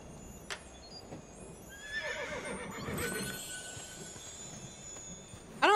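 A horse in the Assassin's Creed 2 video game whinnies in a quavering neigh over a soft background of clip-clopping hooves, fairly quiet overall, with a sharp bright sound at the very end.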